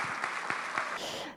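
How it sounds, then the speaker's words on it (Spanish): An audience claps to welcome a speaker to the stage, a short burst of dense clapping that dies away within about a second and a half. "los recibimos con un fuerte aplauso"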